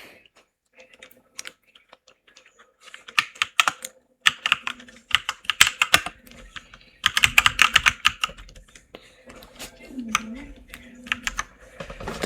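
Text is typed into PowerPoint on a computer keyboard in irregular bursts of close, crisp key clicks separated by short pauses, with a brief voice murmur near the end.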